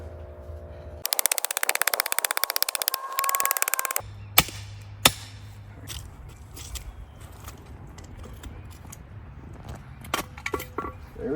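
Gunfire aimed at a homemade steel target on hangers outdoors: a dense rapid burst of shots, then two sharp loud cracks followed by scattered metallic clinks and softer knocks.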